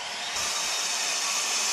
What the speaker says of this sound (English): use a little drill bit to punch a little hole into the wood in every location where I need to drill